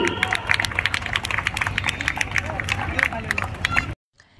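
A loud stage-show audience bursts into sustained applause, dense overlapping clapping with crowd murmur running steadily for about four seconds before cutting off abruptly.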